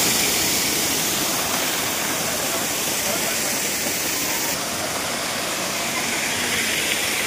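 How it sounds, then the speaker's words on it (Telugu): Katiki waterfalls roar as a steady, loud, broadband rush of falling water, close and continuous throughout with no break or change in level. "చూడండి వాటర్ ఫాల్స్"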